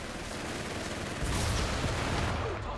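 Panzerschreck anti-tank rocket launcher firing in the Company of Heroes 3 strategy game, a loud broadband blast and rumble around the middle of the clip, set against dense continuous battlefield gunfire.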